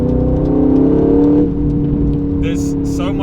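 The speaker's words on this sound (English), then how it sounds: "there's so much engine noise being put in through the speakers that you actually can't hear the real sounds that much" Engine sound from a 2025 Aston Martin Vantage plays through the cabin speakers as a steady, loud, droning hum with a slight rise, with a few soft clicks near the end.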